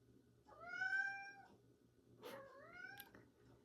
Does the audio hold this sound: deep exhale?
no